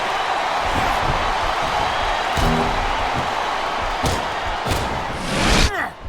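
A large wrestling arena crowd in WWE SmackDown vs. Raw 2007 roars and cheers in a steady, loud wash, punctuated by a few thuds and slams.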